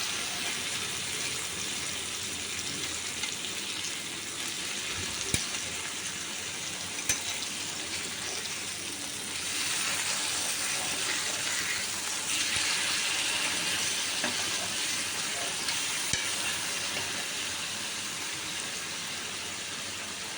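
Fish pieces for a fish moilee frying in a pan, a steady, fairly quiet hiss of oil with a few faint pops and ticks, no one speaking.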